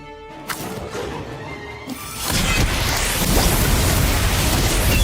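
An Incendio fire spell is cast in Harry Potter: Magic Awakened, a loud roaring whoosh that surges up and holds as a dense, noisy blaze after a quieter start.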